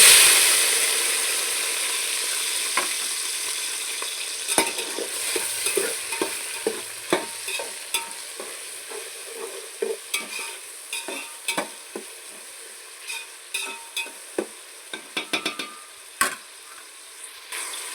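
Onions frying in hot oil for a village-style country chicken curry, a steady hiss with sharp scrapes and knocks of a ladle stirring them around the pan, repeated irregularly throughout.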